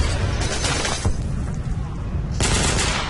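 Enemy gunfire rattles in the shooter game Ghost Recon Phantoms, with loud, sustained bursts of automatic shots close by and two heavier volleys standing out.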